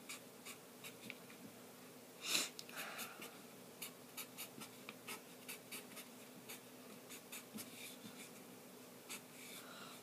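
Steady scratching of a pen or marker drawing a propane structure diagram, with short strokes repeating in an even rhythm and one louder scrawl early on, close and fairly quiet.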